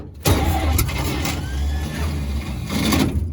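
An old WWII-era engine cranked by its starter with the choke opened, a steady loud grinding churn that runs for a few seconds without catching, close up.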